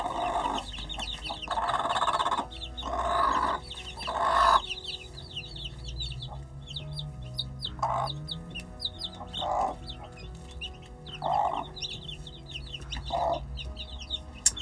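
A hen guards her chicks in a chicken coop, clucking in repeated soft bursts, with high peeping chirps and other fowl close by throughout.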